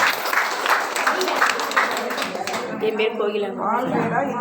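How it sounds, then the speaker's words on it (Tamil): Audience clapping at a farmers' training session on dairy and agro processing, a steady wash of claps from a crowd that blends with speech and fades as a voice takes over. "கைத்தட்டுங்க."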